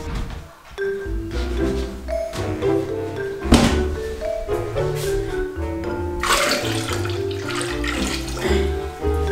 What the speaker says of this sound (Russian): Ты пока налей воду